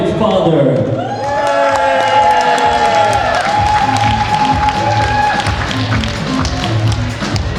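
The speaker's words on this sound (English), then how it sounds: "Let's get a nice round of applause for the bride's father" Guests at a wedding reception applaud the bride's father with a dense patter of clapping and a few whoops, close and lively, under sustained music.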